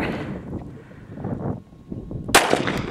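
One sharp, loud crack from a Glock 17 pistol fired at a shooting session rings out near the end, after a stretch of low, rumbling background noise.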